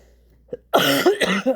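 A single close cough after a brief faint click, with a throaty rasp, heard alone in a quiet room.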